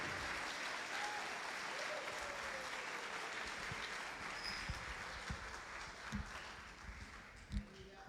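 Church congregation applauding, a dense continuous wash of clapping from many hands that slowly thins toward the end, with a few louder individual claps standing out.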